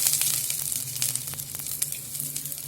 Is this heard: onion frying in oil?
yes